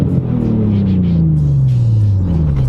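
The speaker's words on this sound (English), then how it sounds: "this car sounds absolutely incredible" A Nissan Stagea M35's V6 engine drones steadily, its pitch falling smoothly as the revs ease off, with a constant low rumble throughout.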